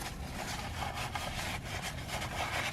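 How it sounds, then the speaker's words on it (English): A rag rubs the oil filter housing of a 2019-or-later Kia Forte clean, with close, steady back-and-forth scrubbing strokes repeating for a few seconds. "So with the oil filter removed, we can clean up the housing here."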